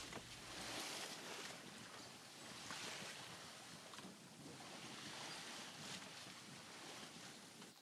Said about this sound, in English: you can tell by the waves that it was a really easy pleasant sail at this point